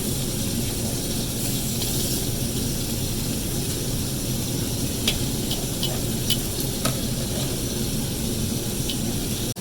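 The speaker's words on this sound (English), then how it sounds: "In with the beautiful steaks that's chopped up" Chopped steak hits a hot pan with onion, spicy pepper and green pepper, giving a loud, steady, close sizzle that runs throughout, broken by a few light utensil clicks and scrapes.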